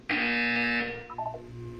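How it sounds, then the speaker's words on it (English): A loud, steady electronic buzzer tone in Portal 2 sounds for about a second, then fades into a softer, warbling tail. "When you hear the buzzer, look up at the ceiling."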